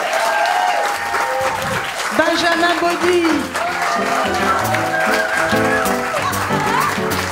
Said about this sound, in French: l'applaudissez très fort